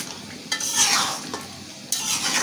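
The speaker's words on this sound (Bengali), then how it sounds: "পাতিলের মধ্যে মাংসটা লাগতে অসুবিধা হচ্ছিল, ওই জন্য আমি কড়াইতে ঢেলে নিছি" Beef sizzles as it fries in a wok for a spicy beef dish. A spatula scrapes and stirs it in a few distinct strokes over a continuous frying hiss.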